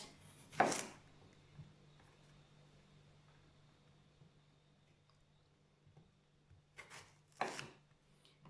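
A knife slices through eggplant for Thai green curry, a few soft, damp cuts against a board, spaced apart with quiet gaps between them.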